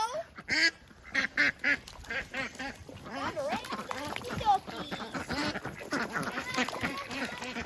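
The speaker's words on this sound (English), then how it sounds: "White ducks. Round up the ducks." White ducks quack in repeated bursts on a homestead, mixed with people talking and calling out nearby as they round them up.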